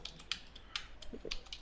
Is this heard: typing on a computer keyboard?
yes